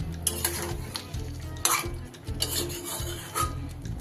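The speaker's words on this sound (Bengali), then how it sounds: "দইটা দেওয়ার সাথে সাথে কিন্তু এইভাবে একটু নাড়িয়ে দিতে হবে" Chicken being stirred with yogurt in a pan, a spoon scraping and clinking against the metal in quick, uneven strokes over a soft background sizzle, close and clear.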